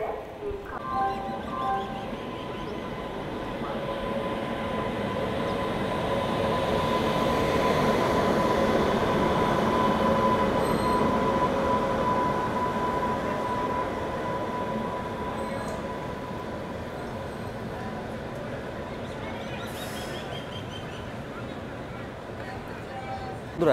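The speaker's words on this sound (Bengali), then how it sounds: "আর এই পাশ থেকে আসছে আপ ডিব্রুগড় থেকে কন্যাকুমারী বিবেক এক্সপ্রেস।" Dibrugarh–Kanyakumari Vivek Express passenger train arriving at a station, a loud continuous rumble and rolling of wheels with faint squealing tones, swelling and then easing over about twenty seconds, with people talking in the background.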